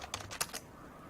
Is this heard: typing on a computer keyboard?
yes